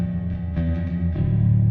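Bass line in a home studio mix, soloed with a full parallel effects send, a sustained low, distorted tone that swells and thickens toward the end, loud and alone with no talk.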